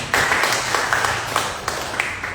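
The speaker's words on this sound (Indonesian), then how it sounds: "Berikan tepuk tangan yang baik." A church congregation applauding, a dense wash of clapping that starts abruptly and holds at a steady level for a couple of seconds, with a few louder claps breaking through.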